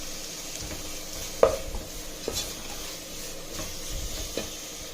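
Pumpkin halwa with sugar is stirred in a pan, soft scrapes and a few spoon taps over a steady low sizzle, close and fairly quiet.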